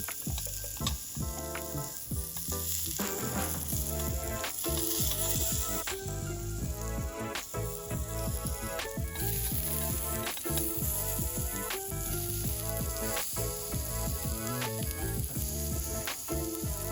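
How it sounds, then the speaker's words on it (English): Scallions and pumpkin sizzle on a grill, a steady, crackling fry with scattered pops and faint clicks running continuously. "So first thing I'm gonna do is grill the vegetables, a couple scallions, and a pumpkin"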